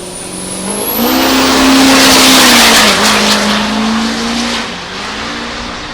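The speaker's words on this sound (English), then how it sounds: "Day 4, Zach Scholes trailer drag racing at the track." A truck pulling a trailer drag races down the track, its engine droning loud and close, then rising in pitch as it accelerates past before easing off, with no voices.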